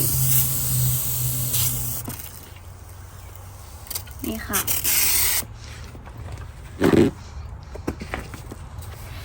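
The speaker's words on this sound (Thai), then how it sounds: "เพื่อนๆสเปรย์ลงไปแบบนี้เลย" Water sprayed from a spray bottle onto perlite potting mix, giving short hissing bursts near the middle and again later, with someone speaking briefly.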